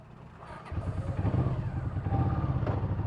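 A motorcycle engine running on E10 fuel starts up and settles into a steady, throbbing mid-pitched idle, close by and alone without talk.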